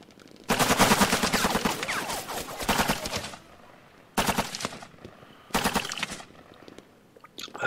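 Rapid machine-gun bursts rattle out in the Vietnam War video game Lock 'n Load Tactical in a Viet Cong cavalry scenario: one long volley, then two shorter bursts separated by brief quiet gaps, loud and close.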